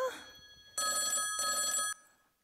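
Telephone bell ringing in two loud electronic bursts, each about half a second long and separated by a brief gap, close up after a short bit of voice.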